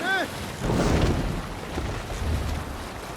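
Viking longship sailing on the sea in Assassin's Creed Valhalla, with a steady wash of wind and water after a short call, continuous and fairly loud.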